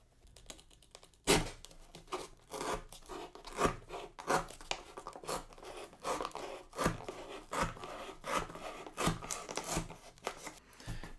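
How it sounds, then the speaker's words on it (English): Scissors snipping through a cardboard box, a rapid irregular series of crisp close cuts and rustles for over ten seconds, with no talking. "then you can go ahead and cut it using your scissors"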